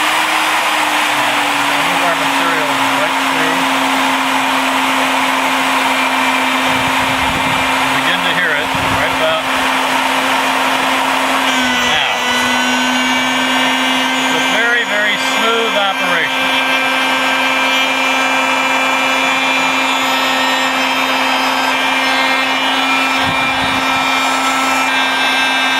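An Alfra KFT250 beveler runs loudly at about 16,500 RPM with a constant high motor whine, briefly dipping in pitch as it cuts, while a person talks over it.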